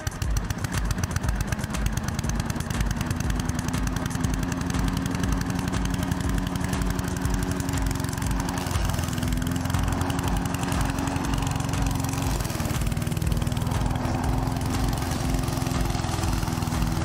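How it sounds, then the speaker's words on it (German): A petrol lawn mower runs continuously, its engine rattling and droning steadily as it mows, fairly close and loud, with no talking. "Dann werde ich jetzt mal den Rasenmäher runterholen und anfangen zu mähen."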